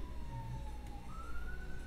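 An ambulance siren wails faintly in the distance, its tone dipping and then rising over steady low traffic rumble, with no voices.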